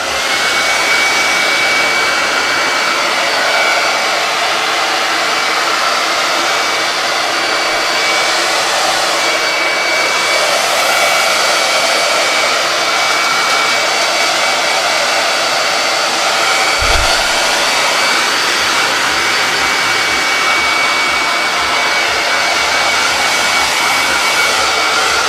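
A hair dryer blows on a chalk paste botanical wall decor craft, a loud, close, continuous whooshing roar that runs steadily for about twenty-five seconds without any voices.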